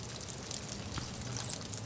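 Light rain falls steadily as a soft, diffuse hiss, with a few faint drips standing out near the end.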